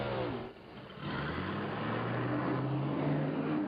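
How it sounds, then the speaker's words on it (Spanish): A test car driving and changing speed: the engine tone drops and dips, then climbs again in a rising, near and steady note under broadband road noise. "Con este coche podemos hacer los movimientos básicos como acelerar y frenar sin problema"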